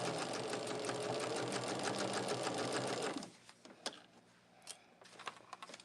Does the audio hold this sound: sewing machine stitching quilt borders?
yes